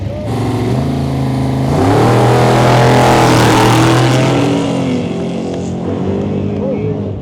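A loud off-road 4x4 truck engine revs up and roars close by, rising to a peak and then easing off, with shouting voices over it.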